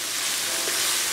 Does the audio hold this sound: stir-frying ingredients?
yes